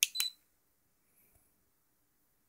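A Dunheger digital luggage scale gives two short, sharp electronic beeps at the start, followed by near silence and a faint tick near the end.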